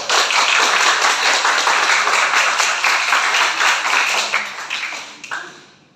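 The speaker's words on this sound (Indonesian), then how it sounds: "Berikan tepuk tangan yang meriah kepada tim panel 3 dan tim panel 4." A seminar audience gives sustained, loud applause for two panel teams at a student civic-project presentation, a dense steady clatter of clapping that thins and fades out near the end.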